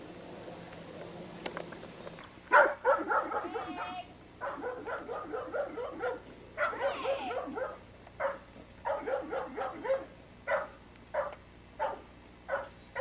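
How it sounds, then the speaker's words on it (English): A lively dog named Natty barks, yips and whimpers in repeated close bursts, starting after a quiet opening and continuing in a steady rhythm of short, loud calls. "She's a wild, wild dog."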